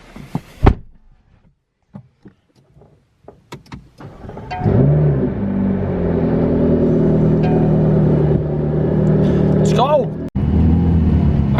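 A car drive with a Corvette Z06 mentioned, starting with door and handling clunks, then a steady engine rumble as the car gets underway, with a brief interruption near the end. People talk throughout.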